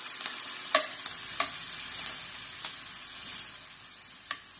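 Venison stir fry sizzling quietly in a cast iron pan with sauce, a soft continuous hiss broken by several sharp scrapes and clacks of a utensil stirring at irregular intervals, with no voices.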